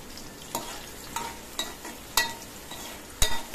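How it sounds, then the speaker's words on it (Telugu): Chopped onion and green chillies fry in hot oil with a bright, close sizzle, broken by several crisp spatula knocks and scrapes on the pan at irregular intervals. "ఆనియన్ పచ్చిమిర్చి కూడా ఆయిల్లో ఫ్రై చేసేసేయండి."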